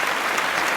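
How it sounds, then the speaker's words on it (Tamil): Steady, dense audience applause fills a Tamil television award ceremony honouring a woman writer with a motherhood award, loud and continuous throughout the short burst. "உங்களுடைய பலத்த கரகோஷத்துக்கிடையே திருமதி லட்சுமி அவர்களை இங்கே மேடைக்கு அழைக்கிறோம்"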